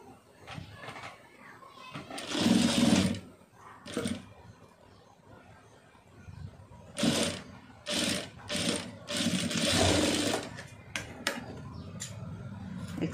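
A sewing machine stitches a fabric knot design in several short, loud runs of motor whir separated by pauses, with quieter handling noise and a voice in the background.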